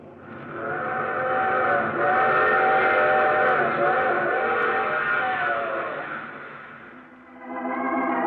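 A train whistle wails loud and steady for several seconds, dips briefly, then sounds again just before the end, in a 1940s radio drama.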